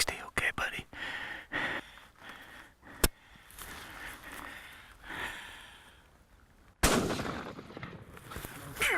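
A TC rifle loaded with Hornady ammunition fires during a mule deer hunt in Montana, a sharp, loud crack standing out among hushed whispering voices, with another abrupt burst of noise following later.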